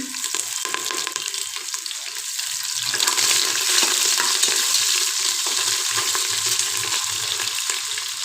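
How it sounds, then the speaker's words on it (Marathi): Chopped vegetables including green chilli, carrot, cabbage and tomato frying in a pan for mixed veg and pea biryani, a loud close continuous sizzle with scattered stirring clicks throughout, alone. "नंतर हे आपण कापलेले टोमॅटो छान एक मिनिट असं छान याला परतून घ्यायचं आहे"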